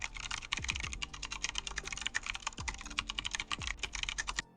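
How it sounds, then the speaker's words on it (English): AI-generated mechanical keyboard typing, a dense steady stream of sharp clacky keystrokes with a few heavier thuds mixed in, close and loud with no talking. "I enter mechanical keyboard sound here and click on Generate"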